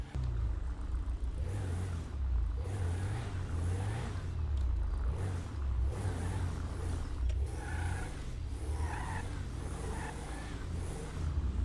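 A car in GTA 5 with a steady low engine rumble and faint whir, driving along and pulling up, continuous and fairly close with no voices.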